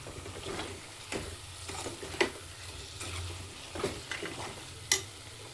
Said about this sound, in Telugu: మళ్ళీ బాగా కలిపేసుకొని